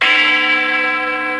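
A huge metal bell rings out with one strong, sustained tone full of shimmering overtones, loud and slowly fading.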